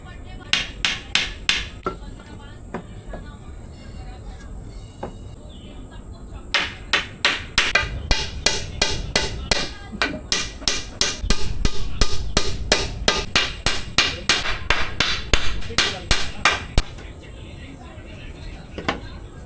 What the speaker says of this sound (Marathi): तर ही पटापट आपण खिळे मारून घेऊया,